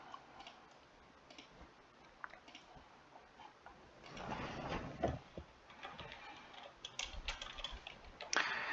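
Typing on a computer keyboard while entering a street name, soft clicking keystrokes that start faint and grow denser and louder in the second half, with no talking.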